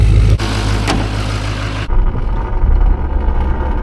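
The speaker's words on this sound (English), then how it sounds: "that engine's running good" A wrecked Duramax diesel pickup engine running with a deep throaty rumble, loud and close, dropping to a lower, quieter idle about halfway through.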